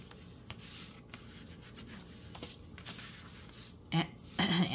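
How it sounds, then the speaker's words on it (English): A folded paper envelope for a junk journal is burnished flat, giving a soft, close rubbing and scraping with a few louder handling bumps near the end. "Burnish down."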